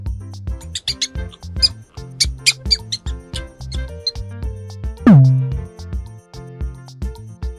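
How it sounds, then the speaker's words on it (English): Mouse squeaking: short, high chirping squeaks over a bouncy rhythmic music track, with one sliding tone partway through. "Mouse."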